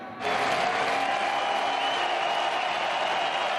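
A dense wash of applause from a large stadium crowd at a football match starts abruptly and holds steady and loud, with a faint tonal hum running underneath.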